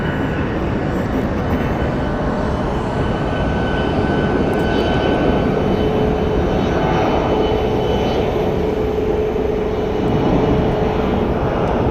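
American Airlines jets taxiing at Phoenix Sky Harbor airport, a steady close engine roar with a high whine that holds loud and unbroken throughout, no talk over it.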